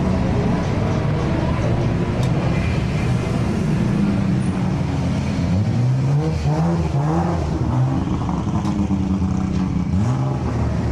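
A Nissan Skyline R34 drag car with a 2.8 litre twin-turbo engine running HKS 3240 turbos roars loudly and steadily, its pitch rising in repeated sweeps as it revs and accelerates through gears.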